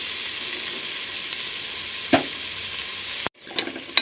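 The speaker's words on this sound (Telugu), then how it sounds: "ఉల్లిపాయలు పచ్చిమిరపకాయలు వీటిని కూడా బాగా వేయించుకున్నాం" Onions and green chillies fry in a pan for a prawn curry, giving a steady close sizzle with a couple of brief stirring scrapes and a sudden short drop near the end before the sizzle returns.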